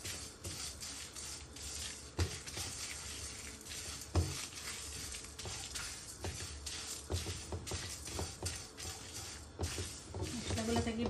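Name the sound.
spices frying on low-medium heat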